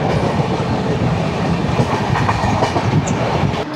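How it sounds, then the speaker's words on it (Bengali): An East Coast Express train rolls into Rajahmundry station, its steady loud rumble carrying rapid clickety-clack of wheels over rail joints from start to end, with no voices. "আমরা এখন ঢুকছি রাজামান্ডি স্টেশনে।"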